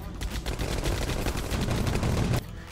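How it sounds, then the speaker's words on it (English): Dense, rapid gunfire from the war game 9th Company: Roots of Terror rattles on loudly in overlapping bursts for a couple of seconds, then cuts off abruptly. "You know what? Couple of shots."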